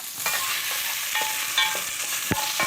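Carrots frying in a pan for fish soup sizzle in a steady hiss while a utensil scrapes and clicks against the pan in irregular stirring strokes.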